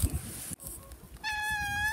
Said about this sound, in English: You're listening to our whiniest cat.